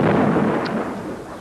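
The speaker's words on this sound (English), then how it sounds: "There was a crack of thunder and bang." A loud, close crack of thunder from a nearby lightning strike over a field, a dense broadband rumble that holds strong through the whole moment before easing slightly.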